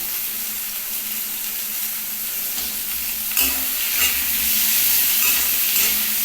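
Soybeans and a bay leaf frying in oil in a pan, with a steady sizzle that swells loudly as they are added and stirred, scraping and crackling continuing alone without talk.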